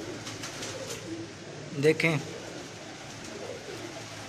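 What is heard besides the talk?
breeder pigeons cooing on a rooftop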